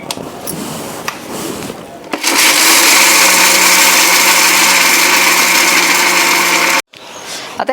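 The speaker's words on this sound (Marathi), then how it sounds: "आता आपल्याला बारीक करायचे। खोबरं बारीक करून घेऊया पहिलं।" A mixer grinder loudly grinds roasted coconut for garlic chutney, a steady high whir running about four and a half seconds before stopping abruptly, preceded by softer kitchen handling sounds and followed by a brief restart.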